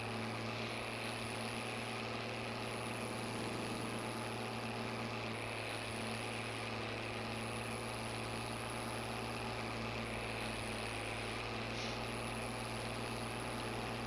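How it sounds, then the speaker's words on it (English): A tractor engine runs steadily in a farming video game, a constant low droning hum with a high whine on top, unchanging and fairly faint throughout with no talking. "Hopefully this tractor isn't too loud for you guys."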